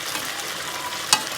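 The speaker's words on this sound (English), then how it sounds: "I'll just reduce the heat and then I'll keep frying it until it turns to golden brown" Chicken fries in its own rendered fat over reduced heat, giving a steady, close, continuous sizzle with one sharp pop near the end.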